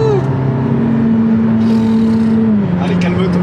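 A Ferrari supercar's engine revs and pulls forward on the road, a loud close drone that rises and falls in pitch, with people talking over it.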